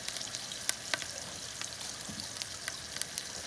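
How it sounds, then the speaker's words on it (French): Lobster with ginger and thyme frying in a pan over low heat, a steady soft sizzle with scattered crackles and pops, close and alone. "Laisser griller plutôt. Tranquillement au feu doux."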